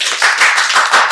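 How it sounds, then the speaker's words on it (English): Loud, close clapping from a few people on a talk-show set, a brisk burst of rapid claps filling the whole moment. "A round of applause."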